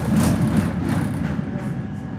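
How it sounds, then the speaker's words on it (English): A Chicago Loop elevated train rolls through downtown, heard from onboard as a steady rumbling clatter with rushing noise, loud and continuous with no talk. "So we got on a train and rode around in circles"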